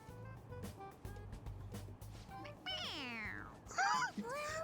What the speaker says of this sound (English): It's, a toy. It meows when you press on its head.